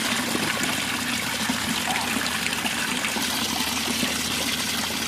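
A small waterfall pours into a backyard pond, a dense, steady splashing rush that stays constant and close throughout with no voices.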